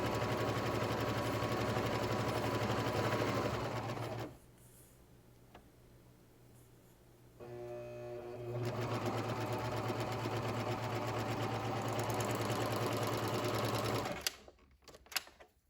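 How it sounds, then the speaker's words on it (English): A serger sews off a seam allowance on a shirt dress, two loud runs of steady rapid stitching split by a brief quiet pause, then stopping near the end. "place my fabric under the presser foot on my serger and just serge off or serge that seam allowance"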